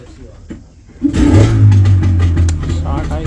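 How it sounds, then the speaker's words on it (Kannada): A boat engine cranks and catches on a river, its low motor rumble rising sharply after a quiet start, then running steadily loud with a hum and revs. "ಇಂಜಿನ್ ಸ್ಟಾರ್ಟ್ ಮಾಡ್ತಾ ಇದ್ದಾರೆ"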